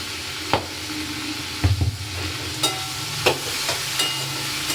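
Tomato masala with turmeric and salt frying in a pan, a soft continuous sizzle broken by a handful of sharp spatula scrapes and taps at irregular intervals, close and moderately quiet, no talking.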